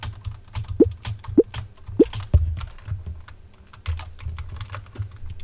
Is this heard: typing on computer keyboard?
yes